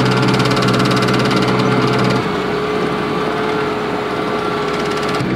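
A tractor engine revs up to 1,000 rpm with the PTO engaged on a farm, a loud, steady drone that drops in pitch and load about two seconds in, then runs on at a lower note.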